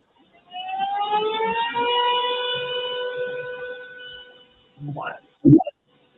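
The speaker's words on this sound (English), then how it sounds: "It sounds like an air alarm, like an air raid." An air-raid style alarm sounding from a computer during an online meeting, a loud rising, wailing horn held for about four seconds, followed by brief voices and a thump.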